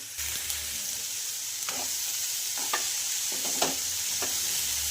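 Chana usal with plenty of fresh coriander stirred in a pan: a steady low sizzle runs throughout, broken by a few soft scraping strokes of the spoon, close and moderately loud.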